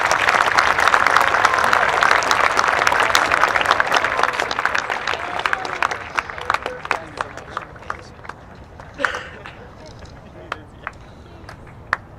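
Applause from a crowd honoring veterans at a high school Veterans Day celebration, loud dense clapping that gradually thins into scattered claps toward the end.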